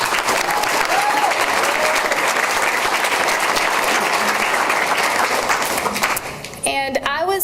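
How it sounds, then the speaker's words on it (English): Applause from a crowd at a school board meeting, honouring a volunteer, holds steady and dense for about six seconds and then thins out as a voice starts speaking near the end. "he deserves his own round of applause"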